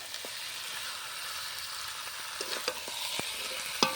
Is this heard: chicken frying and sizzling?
yes